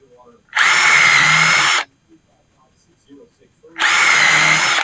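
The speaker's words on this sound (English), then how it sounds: "We'll drill two holes here." A power drill whirs loudly in two separate bursts while drilling holes in wood for an outdoor table, each lasting about a second, separated by a quiet pause with faint handling noises.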